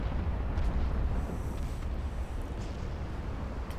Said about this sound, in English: Oh, you took a 10-inch gun.